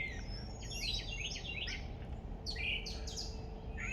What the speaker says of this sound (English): The birds are kind of mad because I scared them off all the food.